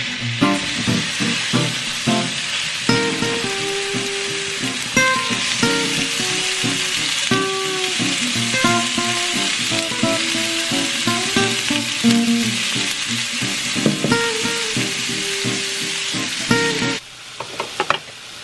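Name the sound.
beef steak sizzling on a hot comal griddle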